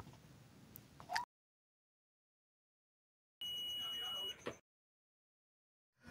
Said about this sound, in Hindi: ये दूसरा वाला देख सकते हैं बीप की आवाज़ कर रहा है, यानी कि ये ट्रांजिस्टर शॉर्ट है।